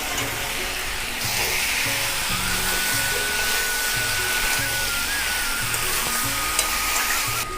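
Fried potatoes go into a hot pan for a North Bengal hill-style squash jhal posto curry, setting off a steady, loud sizzle with soft stirring knocks and a low background hum throughout, no talking.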